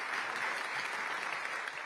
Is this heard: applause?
yes